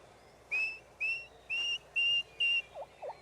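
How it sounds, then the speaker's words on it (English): A lone wild turkey poult left behind gives its lost call: five clear, high whistled notes evenly spaced about half a second apart, followed by two fainter short peeps, set against a quiet outdoor background. "The poult left behind gives the lost call."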